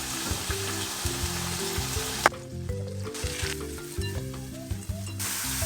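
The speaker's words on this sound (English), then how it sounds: "Let's stir fry butter." King oyster (eringi) mushrooms stir-fry in butter with a loud, continuous sizzle and crackle, and a few sharp utensil knocks punctuate the frying; no one speaks.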